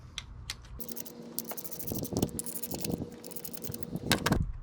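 Ignition coil bolts are tightened by hand on a 2007 Nissan Versa engine, with close, irregular metallic clicks and light ratcheting taps in short bursts and no talking.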